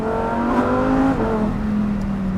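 Porsche GT3 RS sports car on a race track, its high engine note rising and falling as it passes close by, loud and clear with a whirring tone and no talk over it.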